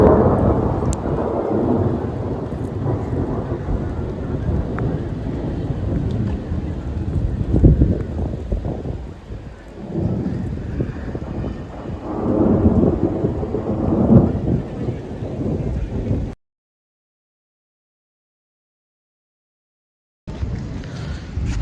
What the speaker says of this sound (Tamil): இடி இடிக்குது